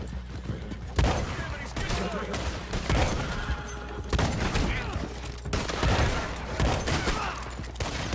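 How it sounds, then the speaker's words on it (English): Repeated gunshots crack out in Red Dead Online, irregular bursts of fire over about eight seconds, mixed with horse hooves and whinnies and a busy game-world background. "Stop shooting at me, fools."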